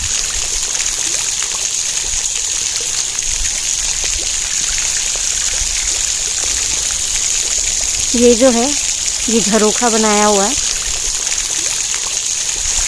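Water splashing and trickling steadily from gravity-fed fountains in a palace garden in Udaipur, supplied by Fateh Sagar Lake with no motor, a constant wash of spray heard beneath someone talking throughout.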